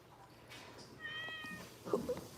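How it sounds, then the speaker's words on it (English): A house cat meows several times up close, with short tonal calls rising and falling, the last one louder and more strained, against a quiet room. "Who's this bipolar cat?"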